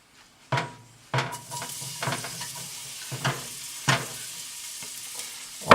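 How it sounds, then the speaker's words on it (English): Celery and onion sizzle in a generous pour of olive oil in a pan, the frying hiss broken by several sharp clanks and stirring scrapes at a steady, close pace. "I'm going to put a generous amount of olive oil in the pan here and get this celery and onion going in there."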